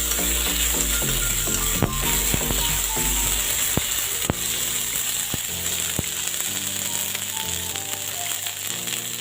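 Chopped garlic and cumin fry in hot oil, giving a continuous close sizzle with occasional sharp clicks. Steady background music plays throughout and there is no talking.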